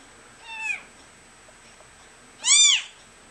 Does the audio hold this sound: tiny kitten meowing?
yes